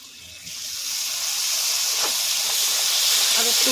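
Tomato paste hits hot oil in a pan while cooking a chicken curry, setting off a loud, steady hiss of sizzling that swells and holds.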